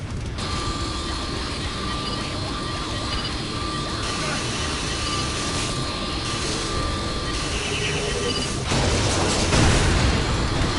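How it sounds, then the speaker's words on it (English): The engine of a VTOL aircraft in Saints Row: The Third drones loudly and steadily under mechanical clatter and game effects, swelling slightly toward the end. "Bring that VTOL down."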